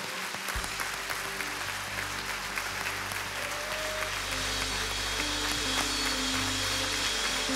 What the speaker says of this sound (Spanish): demos el aplauso más grande al Rey de Reyes